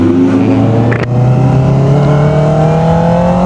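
A Honda CBR650R sport motorcycle accelerates hard through the gears, its engine note climbing steadily, with a quick shift break early on, loud and close with no talking.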